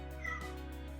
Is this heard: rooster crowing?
no